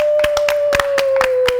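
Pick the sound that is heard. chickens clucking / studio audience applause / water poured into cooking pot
studio audience applause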